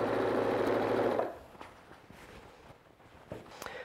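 Sewing machine stitching over quilt seams while pieces are joined: a steady, fast mechanical whirr for about a second, then it stops, leaving quiet room noise and a few soft taps.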